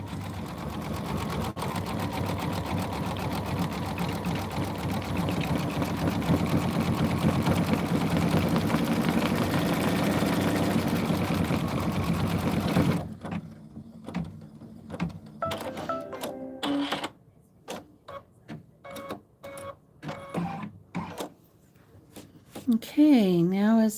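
A sewing machine stitches quilt sashing for a Lori Holt Home Town embroidered quilt, running steadily and fairly loud for about thirteen seconds, then stopping and giving way to quieter bursts of handling and clicks.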